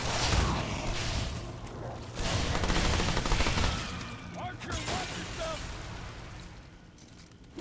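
Long rifle gunshots in the video game Remnant II fire repeatedly in dense, overlapping bursts that keep up under a loud, continuous wash of game noise.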